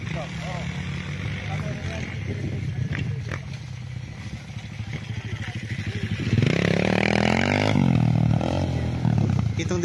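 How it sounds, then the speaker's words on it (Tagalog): Big motocross motorcycles rev and roar past on a rural road by rice fields, their engines rising loudly near the end, under a voice talking. "Yung nagmumotor na malaking motor."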